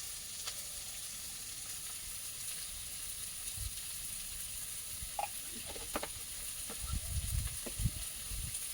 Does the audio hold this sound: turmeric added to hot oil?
yes